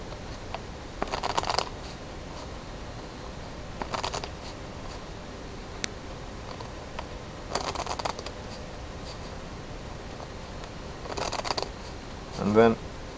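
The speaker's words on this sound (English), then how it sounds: "I'm gonna shuffle each pack individually." A deck of playing cards, cut roughly in two, is shuffled in separate bursts of quick riffling, each lasting about half a second, close and fairly quiet against a still background.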